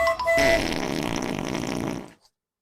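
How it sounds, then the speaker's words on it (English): A xylophone-style fart sound effect from a livestream sticker: a single loud, buzzy, sustained raspberry lasting about two seconds, then abrupt silence. "the xylophone fart sticker"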